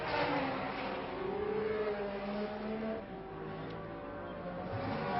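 A 1966 Formula 1 race car at the French Grand Prix roars past the pits with a continuous high engine whine that shifts pitch as it passes, in a muffled, band-limited recording.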